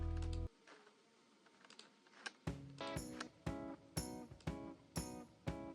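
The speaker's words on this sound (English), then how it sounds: "So I'll press Ctrl E on my keyboard" Computer keyboard keystrokes while working in Photoshop on a church flyer: a short run of soft clicks, then several crisp, evenly spaced key presses, close and clear, with no talking.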